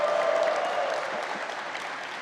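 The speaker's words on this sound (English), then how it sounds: "I want you all to cheer if you are enjoying the new campus" Graduates at a technical institute commencement clap and cheer in a dense burst of applause that gradually fades over a couple of seconds.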